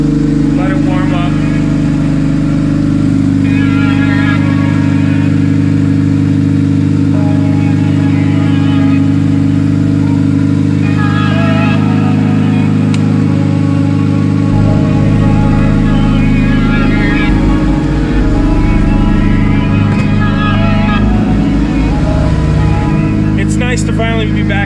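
A Honda Civic's turbocharged D16 engine idles while warming up, a loud steady low rumble with slight wavers in pace, as a person talks over it now and then.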